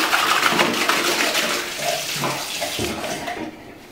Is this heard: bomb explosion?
no